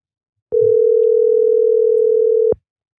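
A single steady electronic telephone tone sounds for about two seconds on a call to someone's mom, clean and alone against silence.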